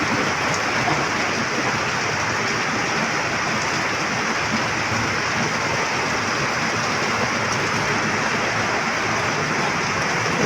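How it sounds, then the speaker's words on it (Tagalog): Heavy typhoon rain pours down in a dense, unbroken hiss, loud and constant, with no other sounds standing out. "Ulan ng bagyo."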